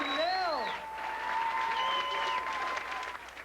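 Audience applause for a magician fills the room with steady clapping, while sweeping whistle-like tones and voices ride over it.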